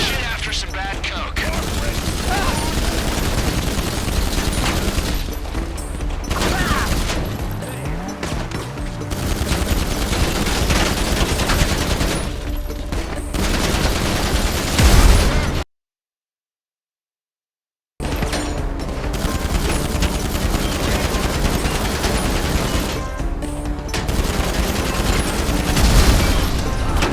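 Gunfire from helicopter gunners during a drug war mission in GTA Online, with sustained bursts of automatic fire and booms running throughout, broken by a brief silent gap, dense and loud.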